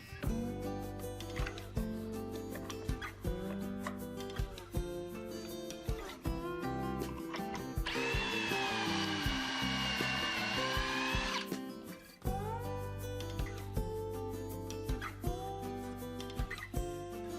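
A power drill drives pocket screws into a pine table top, producing one sustained whirring burst of about three and a half seconds partway through, heard under continuous background music.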